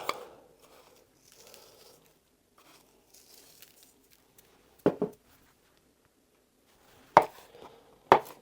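Three sharp knife chops on a board while chopping herb sprigs, spaced apart, after a stretch of quiet soft rustling.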